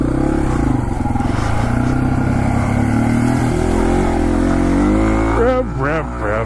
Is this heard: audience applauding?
no